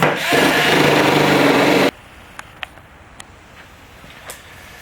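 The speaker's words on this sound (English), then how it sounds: "Using the fiber disc on a die grinder, you have to be using the throttle" Die grinder fitted with a fiber disc stripping paint from a 1972 Dart trunk lid: a loud, harsh abrasive whine lasting about two seconds, then it cuts off into quiet with a few faint clicks and taps.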